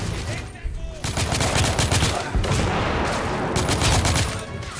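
Dense gunfire in The Order 1886 video game, with sustained bursts of rapid automatic shots layered with scattered single cracks, loud and close throughout.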